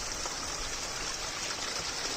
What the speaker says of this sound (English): I'm standing over here right by the waterfall coming through the wall